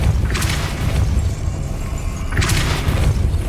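Depulso spell cast in the Hogwarts Legacy video game: two loud whooshing bursts with a booming impact, one early and one near the end, over a heavy constant rumble.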